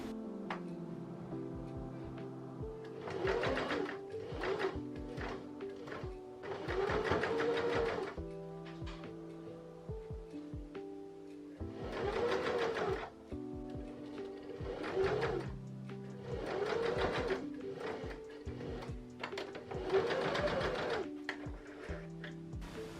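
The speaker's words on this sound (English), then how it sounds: "I'm going to sew along the top edge of the channel." Sewing machine stitching along the folded top edge of a dress sleeve channel, running in several short bursts separated by pauses, with a steady mechanical hum throughout.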